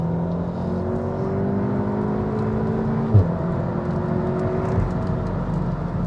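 A VW Golf R MK7 hot hatch accelerates hard in race mode, its engine note climbing steadily in pitch through the gears, with a brief shift break midway and a constant loud interior drone.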